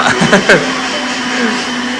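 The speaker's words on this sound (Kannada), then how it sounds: "Wow, what a Blender. Fancy Blender." A kitchen blender runs with a constant, fairly loud whirring drone, with short bursts of voices over it at the start before it settles into an even hum.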